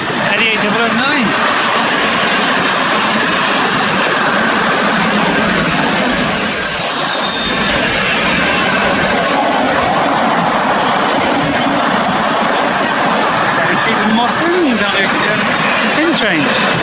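A Class 88 locomotive hauling a train through Rugeley Trent Valley station, a loud sustained rumble and roar with rail clatter, steady and close for the whole stretch.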